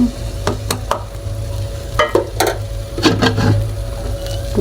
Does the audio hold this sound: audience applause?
no